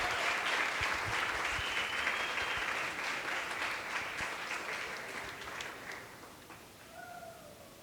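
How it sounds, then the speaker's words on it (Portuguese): Wedding guests at a church marriage ceremony applaud the newly married couple with a steady, dense wash of clapping that slowly fades and thins toward the end. "E um salva de palmas para os noivos, para a nova família"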